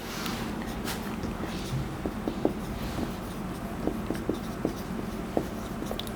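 Pen scratching and tapping on paper while math working is written out, a run of soft close strokes with a few sharper ticks, alone with no talk.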